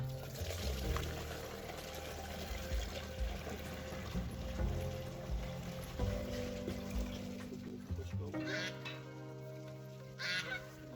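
Fungicide working solution for a hazelnut winter treatment poured into a garden sprayer tank, a steady liquid gush running throughout under ambient noise, with fowl calling in the background.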